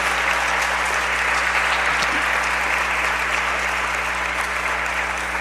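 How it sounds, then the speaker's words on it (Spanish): Church congregation claps for the Lord during a sermon, a dense, even roar of applause throughout with a low steady hum underneath and no speech on top. "Denle un aplauso al Señor"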